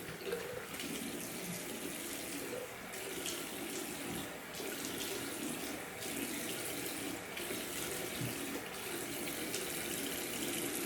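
A bathroom tap runs steadily as water wets a beard before a straight razor shave, a continuous hiss and splash of flowing water with faint shifts as hands move under the stream.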